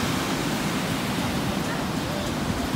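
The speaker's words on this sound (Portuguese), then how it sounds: "Olha o mar aqui." Sea surf at the beach of the Costa do Sauipe resort in Brazil, a loud, steady wash of breaking waves filling the whole clip with no pauses.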